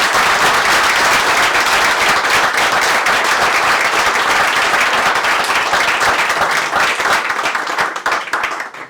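Dense, sustained audience applause at a whisky forum session, loud and steady throughout before tapering slightly at the very end, with no talk over it.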